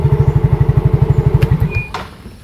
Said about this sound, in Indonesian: suara knalpotnya juga lebih halus Beat, karena itu suaranya punya ciri khas tersendiri, menderu